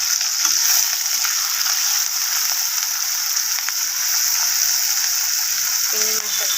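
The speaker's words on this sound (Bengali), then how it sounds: "আমার গরম হয়ে গেছে, এখানে মাছটাকে ছেড়ে দেবো।" Shrimp dropped into hot oil in a pan, cooking for a potato and bitter gourd dish, gives a steady, loud, even sizzle that fills the whole stretch, with a short voice appearing near the end.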